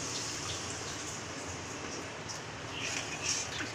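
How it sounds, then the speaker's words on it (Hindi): Half a glass of water is poured into frying masala in a pan for bottle gourd kofta, giving a steady, soft rushing hiss that swells slightly near the end. "1/2 ग्लास पानी डाल लेंगे"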